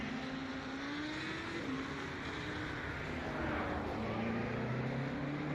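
A BMW GT3 race car drones at a steady high engine pitch with slowly shifting tone during a sim race at Adelaide Street Circuit, continuous and moderately loud, with no talk heard.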